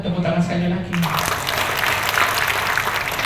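A church congregation at a New Year sermon breaks into loud, sustained applause after a brief spoken lead-in, the clapping dense and filling the room until the end.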